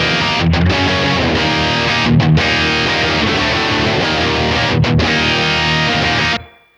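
Crunchy, distorted electric guitar through a Blackstar St. James 100 amp set to moderate gain, loud and close, strummed chords ringing for several seconds with brief gaps before being cut off.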